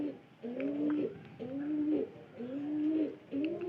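Pigeons coo inside a tin-roofed pigeon house, a soft throaty call repeated about four times in a steady rhythm, close and clear with no voices.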